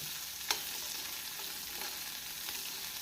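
Onions sauté in hot oil with popped mustard seeds for a spicy tomato chutney, a faint, steady sizzle with a sharp clink of the spatula near the start and a few softer taps later.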